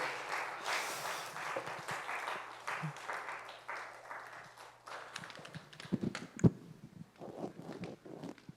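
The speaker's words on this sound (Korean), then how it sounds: "박수!" A congregation at a Sunday youth worship service applauds as guests are welcomed. Lively clapping swells at first, then thins and fades into scattered footsteps and shuffling as people move to the front.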